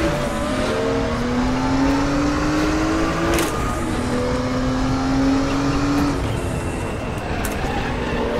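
A Porsche 934 Turbo RSR race car in the RaceRoom racing game at Norisring roars loudly and continuously, its engine note climbing through the gears under a wash of other race-car noise, with no talking.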